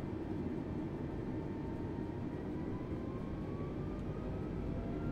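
An Airbus A320 in Microsoft Flight Simulator 2020 spools up to takeoff thrust on the runway, a dense, constant engine roar with a thin rising whine, loud and steady.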